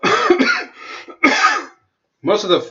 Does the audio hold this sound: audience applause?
no